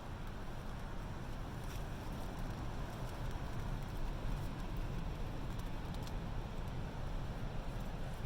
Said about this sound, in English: That is the sound of the wind hitting the rock face.